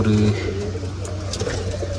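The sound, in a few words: pigeons cooing in a pigeon coop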